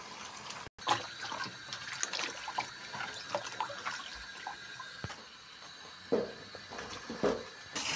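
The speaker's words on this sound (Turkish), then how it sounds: "Lahanalarımı güzelce yıkıyorum" Cabbages being washed in water, with continuous splashing, sloshing and trickling plus occasional clunks as the leaves are handled, close up and steady throughout.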